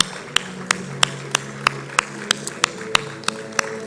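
A few scattered, sharp hand claps ring out separately with short gaps between them, lightly punctuating a quiet room during an on-stage award presentation.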